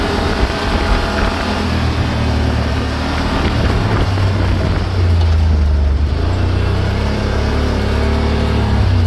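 A rented UTV drives along the Aruba waterfront, its engine a steady low rumble with strong wind buffeting throughout and a slight surge of power near the end.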